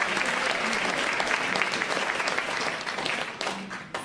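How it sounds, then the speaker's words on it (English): A crowd at a Martin Luther King Day event at Cohen Hall applauds the mayor's introduction, loud continuous clapping from many hands that fades slightly near the close. "yes, by all means, round of applause."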